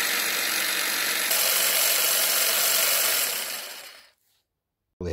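Ryobi One+ cordless pole hedge trimmer running with its blades going, a steady close buzzing whir that fades out near the end, then silence before a brief click.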